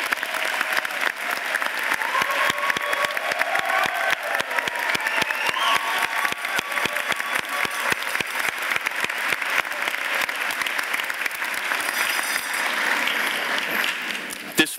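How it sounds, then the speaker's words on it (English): A large commencement audience at Middlesex Community College stands and applauds faculty: dense, sustained clapping from a big crowd fills the hall steadily, with a faint voice drifting in near the end. "please stand for another round of applause for everything they have contributed to our graduates"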